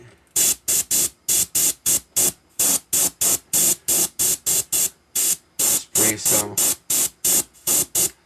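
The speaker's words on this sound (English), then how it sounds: "Spray some of that water on the sock line." Rapid repeated hisses of a spray bottle misting water onto a sneaker, about two dozen short bursts in an uneven rhythm, close and loud.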